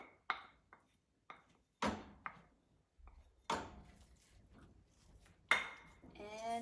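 Chopped tomatoes are mixed into scrambled tofu in a pan, heard as close, sharp clinks and scrapes of a utensil against the pan, spaced irregularly with quiet gaps between.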